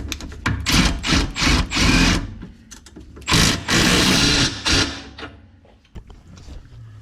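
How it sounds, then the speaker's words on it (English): Ratchet tightening the nut on a PT Cruiser Watts link, heard as bursts of rapid clicking in close, loud clusters with short pauses between, then quieter scattered clicks toward the end; no talking. "let's get our nut down here. We'll torque this to 110"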